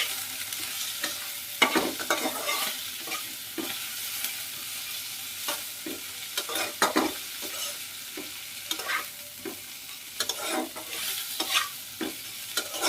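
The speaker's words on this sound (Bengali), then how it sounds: "এই পর্যায়ে কেটে রাখা ধনে পাতাগুলোকে আমি এখানে অ্যাড করে দিলাম, আর এটাকেও আমি একটু মিক্স করে নিচ্ছি" Chopped coriander is stirred into a frying mixture in a pan for a mixed small-fish dish, with repeated spatula scrapes and knocks over a soft steady sizzle, close by and with no talking.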